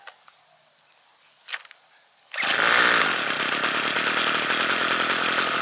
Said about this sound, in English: Squeeze trigger and pull start